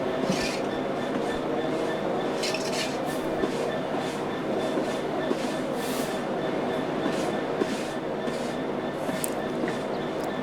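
A steady, heavy rumble of a Class 66 diesel locomotive hauling wagons from a cold start at Hoo Junction on a foggy day, with faint metallic clinks and clicks on top and no clear pauses.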